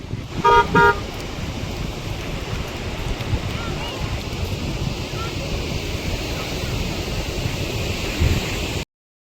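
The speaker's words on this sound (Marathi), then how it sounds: "सर्रास गाड्या पार्किंग केलेल्या आहेत आणि चालवत आहेत सुद्धा" Cars drive and park on a Konkan beach at Dapoli–Murud, with a brief horn toot near the start over steady wind and surf rumble.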